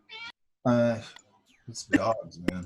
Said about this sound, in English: You can hear him meowing